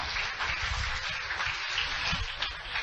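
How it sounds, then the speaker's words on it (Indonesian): A church congregation claps together in a steady, dense wash of applause, even and sustained throughout, with no voices standing out. "Berikan tepuk tangan yang meriah buat Tuhan."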